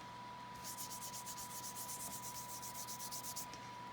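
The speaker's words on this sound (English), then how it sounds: "I just want to kind of gently rub this over here so that it brings out the embossing" Soft, rhythmic rubbing strokes pass back and forth over an embossed paper craft tag, a quick series of gentle swishes against a faint steady hum.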